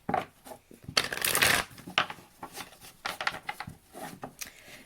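Riffle shuffling of a tarot deck, crisp papery flurries of cards repeated in bursts with a few taps and slides between, close and fairly loud, no talking.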